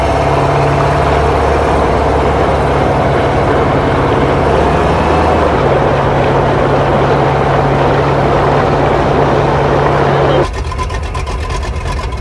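A Skydio 2 drone comes in to land aboard a 400 hp twin tunnel-hull Sleekcraft speed boat. Its steady propeller whine blends into loud, continuous engine and wind roar, with voices over it. The drone tone drops away near the end.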